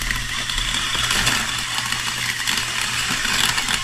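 A Piscifun reel spooler winds braided line onto a baitcaster reel, giving a steady close mechanical whir and hum that holds at even loudness with no pauses, and nobody talks.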